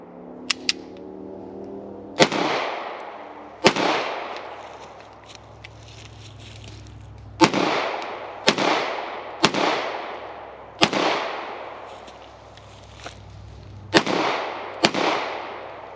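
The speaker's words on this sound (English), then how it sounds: "And now Fox's last go with the VIS today." Sharp gunshots from an FB Radom VIS-100 pistol at a shooting range ring out one by one at uneven intervals, about ten reports in all, each with a short decaying echo and quiet gaps between.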